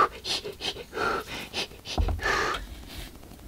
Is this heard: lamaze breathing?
yes